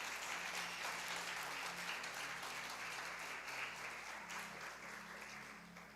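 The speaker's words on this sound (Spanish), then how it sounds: "Dele una ofrenda de palmas al Señor por esta palabra." A church congregation applauds as an offering of praise, a steady wash of many hands that stays even, fairly faint and distant, and fades slightly toward the end.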